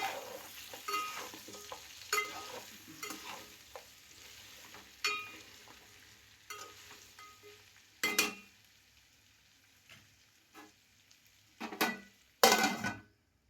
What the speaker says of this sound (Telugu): ఇలా మధ్యలో మధ్యలో కలుపుకుంటూ ఉండాలి ఒక 10 మినిట్స్ దాకా.